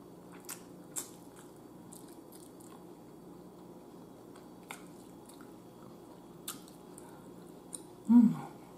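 Close biting and chewing of chicken wings in garlic sauce, with a few sharp crunchy bites spaced through quiet mastication and a louder wet bite near the end.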